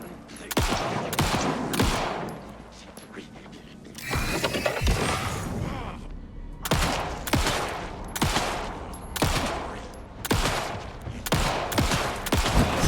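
Rapid pistol gunfire from a player character in the video game Alan Wake II, a series of sharp, loud shots in quick bursts with short pauses, plus brief scuffling action between volleys.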